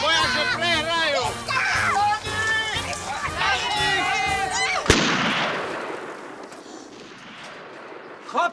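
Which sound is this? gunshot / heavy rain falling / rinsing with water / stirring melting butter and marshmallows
gunshot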